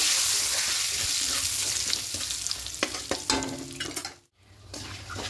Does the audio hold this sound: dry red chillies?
yes